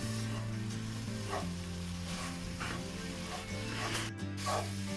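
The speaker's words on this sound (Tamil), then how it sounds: "டெசிகேட்டட் கோகோனட்டையும் டின் மில்கையும் சேர்த்து நல்லா மிக்ஸ் பண்ணி விடணும்." Desiccated coconut and tinned milk being stirred together in a saucepan over heat, a steady sizzling and scraping texture with periodic spoon strokes, close and continuous.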